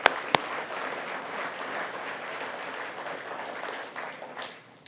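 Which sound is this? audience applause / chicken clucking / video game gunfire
audience applause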